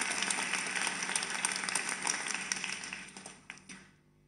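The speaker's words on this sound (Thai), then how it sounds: "ขอเสียงปรบมือต้อนรับท่านประธานในพิธี" An audience at a school certificate ceremony applauds to welcome the ceremony's chairman: dense, steady clapping from many hands that thins out near the end into a few last scattered claps before silence.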